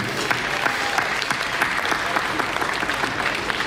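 A crowd at a municipal anniversary festival applauds a village's third-place result, dense continuous clapping that stays loud and even throughout with no voices on top.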